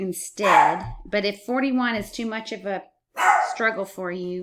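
A dog indoors barks at workers in the house, sharp repeated barks mixed in and partly overlapping with a person talking nearby.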